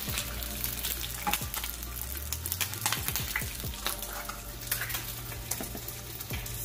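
Turkey bacon frying in a pan, a close, steady sizzle with crackling pops and occasional scraping from stirring, a low appliance hum underneath and no talking.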